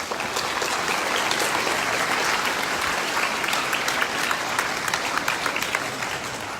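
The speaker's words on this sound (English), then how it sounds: "Let's again give them a round of applause." Steady, dense applause from a community meeting audience in a country club function room fills the whole stretch, loud and continuous with no talk over it.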